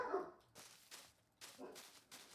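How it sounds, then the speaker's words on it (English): A dog barks in a room, four or five short, faint barks and yaps spaced unevenly, with no talking over them. "Do not bark."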